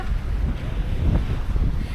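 Strong wind buffets the microphone in a steady, rumbling roar for the whole stretch, with no talking.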